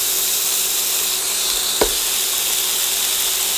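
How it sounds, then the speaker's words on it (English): Burgers dropped into a hot oiled pan give a loud, steady close-up sizzle with a single soft thud partway through as a patty lands. "So what we're going to do is we're going to drop our burgers in here"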